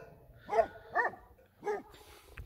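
Three sharp barks from sheepdogs guarding a flock beside a tent, evenly spaced about half a second apart, fairly close and heard alone.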